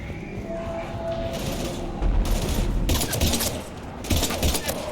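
Gunfire against husks in Mass Effect 2 crackles in several bursts over a steady game background, with heavier volleys about halfway through and near the end, moderately loud and without speech.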